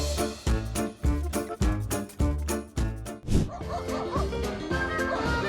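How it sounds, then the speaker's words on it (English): A guard dog barks loudly and close by in a rapid run of about eight sharp barks, which then break into whimpering, yipping cries. "Confidence lasts, right until the dog speaks up."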